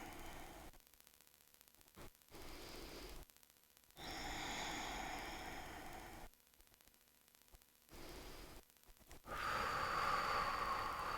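A deep exhale pushed out through the mouth during a guided seated stretch with a twist to the side, with soft airy breath bursts that stop and start across the stretch.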